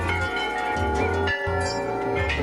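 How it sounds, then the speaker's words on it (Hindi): Many temple bells ring continuously at the Golu Devta temple in Chitai, a dense metallic clangor with overlapping tones and a steady low hum, close and busy with no pause. "हर तरफ आपको घंटियों की मधुर ध्वनि सुनाई पड़ेंगी।"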